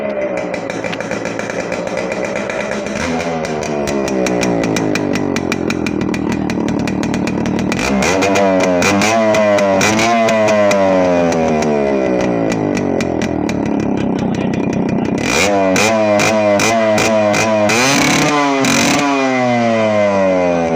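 A Yamaha RX100 two-stroke motorcycle engine starts and revs repeatedly, its pitch sweeping up and down in sharp rising and falling bursts, loud and close throughout with no talk.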